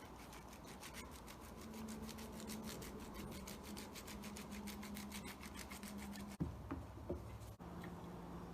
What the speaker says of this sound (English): A light grating of cheese on top.